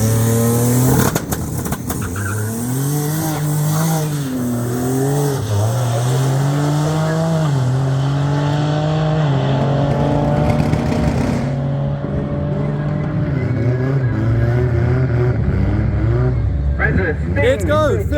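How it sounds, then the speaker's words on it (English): Turbo Smart powered Ford Raptor launching down a drag strip at Tarlton International Raceway, its engine holding a loud sustained drone that rises and dips in pitch as it accelerates, with an announcer talking over it throughout. "Up next we've got Michael Steyn in the Turbo Smart powered Ford Raptor."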